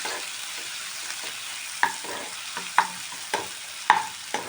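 Thinly sliced tomatoes sizzling in a pan for masala pasta, a steady soft frying hiss broken by a few sharp clinks of a utensil against the pan, close and with no talking.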